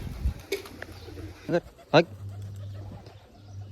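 Pigeons at a rooftop loft coo in a few short bursts near 0.5, 1.5 and 2 seconds, fairly close, with soft background noise and a low hum between them.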